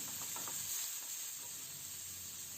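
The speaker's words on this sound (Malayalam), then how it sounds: "അതിലേക്ക് ഒരു ഉള്ളി ഒരു വലിയ ഉള്ളി കട്ട് ചെയ്തത് ഇട്ട് കൊടുത്ത് ഒന്ന് വഴറ്റിയെടുക്കണം" Chopped large onion sautés in a little hot oil in a pan, giving a faint, steady sizzle and hiss throughout with a few soft stirring sounds near the start.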